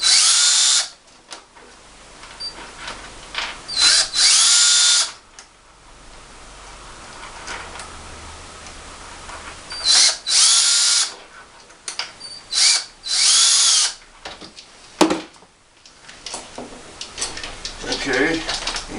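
A handheld power drill backs screws out of a Porter Cable 7310 router during a rebuild, whining in several short bursts of a second or two each, separated by quiet handling noises and a sharp clack.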